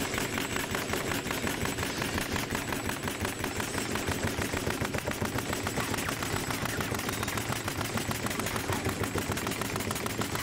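Pneumatic nail gun emptying a full magazine of nails in rapid succession, a dense, even train of sharp clacking shots close by that runs without pause.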